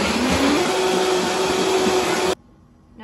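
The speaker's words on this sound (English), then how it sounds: "And now we blend." Blender whirring through mushrooms and garlic for a beef Wellington filling, a loud dense motor roar that rises in pitch at the start, then cuts off abruptly, leaving near silence.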